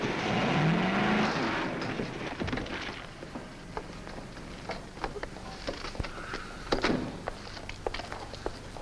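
Car in a 1952 comedy film speeding recklessly past, a loud engine roar sweeping by early on, then fading into scattered clatter and thumps.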